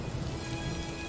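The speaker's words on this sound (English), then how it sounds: "And then it's raining." Steady rain in an animated RWBY episode, a dense, even hiss of falling water that fills the whole short stretch with no voices over it.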